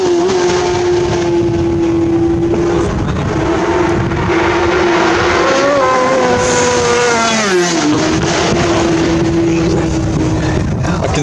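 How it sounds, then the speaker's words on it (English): Superbikes at full race pace on the Isle of Man TT course at Glen Helen, 2019 Superbike race: a loud, sustained engine howl with rising and falling pitch as a bike screams past close by, then another follows. "watching from Glen Helen 1 Superbike Race."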